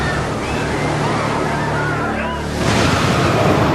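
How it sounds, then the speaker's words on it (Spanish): Huge tsunami waves sweep across the Indian Ocean in a loud, continuous roar of surging water and surf, swelling slightly louder toward the end, with a faint tonal rumble underneath. "Muros de agua de hasta 30 metros de altura avanzan a través del Océano Índico en todas direcciones"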